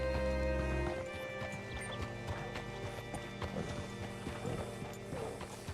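Rhythmic clip-clop of horse hooves in Red Dead Redemption 2 over a busy layer of mechanical clanks and ambient game music, steady and fairly loud throughout.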